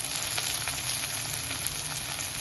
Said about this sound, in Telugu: ఇప్పుడు కరెక్ట్గా ఇది ఫ్రై అయింది